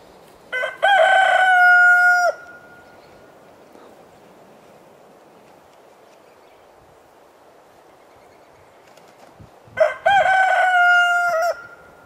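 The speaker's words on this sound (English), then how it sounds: "roosters crow about every hour, whether you like it or not" A backyard rooster crows twice, one long cock-a-doodle-doo near the start and another about eight seconds later, loud and close with quiet gaps between.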